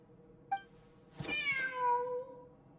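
A video game cat gives a short chirp, then a drawn-out, rising-and-falling meow, close and clear over a quiet ambient backdrop.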